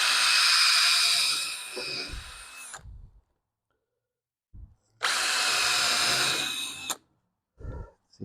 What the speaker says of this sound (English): See if we can screw that in to kind of hold the drill down.